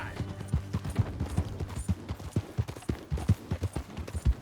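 Horse hooves clip-clop in Red Dead Redemption 2, a steady rhythmic trot of sharp low thuds close by, with faint voices in the background.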